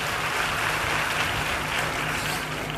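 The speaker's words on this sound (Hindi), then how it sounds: "एक बार ताली बजाओ" An audience at a Bageshwar Dham Sarkar religious gathering claps together in a dense, steady burst of applause that stays even and unbroken, with no talking over it.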